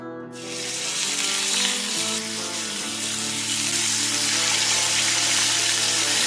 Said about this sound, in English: go ahead and sear off your ribs